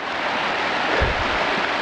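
A large mountain river in the Carpathians near Yasinia rushes past in a steady, close, unbroken roar of flowing water, with low rumbling surges and no voices.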